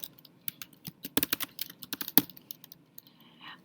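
Typing on a computer keyboard, close and quiet, with irregular clusters of sharp key clicks and a denser flurry in the middle, no talk.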